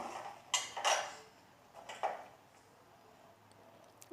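Thick black urad dal kali being stirred slowly in a pot over a low flame: a few soft scrapes and knocks of the spoon against the pot, fairly faint and spaced out, with quiet pauses between.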